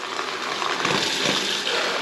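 Water gushes from a tap in a house after the supply is turned back on following a long winter, a steady, loud rushing flow that stays close and continuous throughout.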